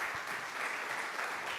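Applause from a conference audience for a panel of speakers at a food event, a steady wash of clapping held at an even level for the whole stretch with no voices over it.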